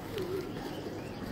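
A male homing pigeon coos softly and low, a brief murmuring call set against a steady, noisy background.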